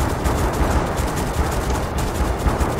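Dense, continuous anti-aircraft gunfire in a naval battle video game, a steady roar of overlapping shots and booms with no break, loud and close throughout.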